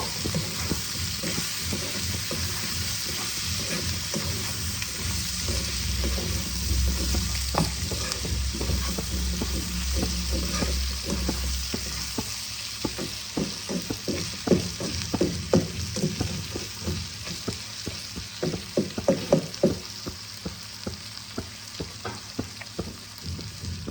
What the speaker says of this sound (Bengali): এবার আমি টমেটোগুলোকে দিয়ে দিলাম। ভালো করে মিশিয়ে নেব।